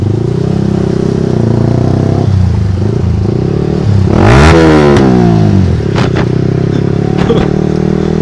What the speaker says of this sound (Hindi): रुको भाई इसको अपने एग्जॉस्ट का साउंड सुनाता और इसको थोड़ा हैरान करता हूं।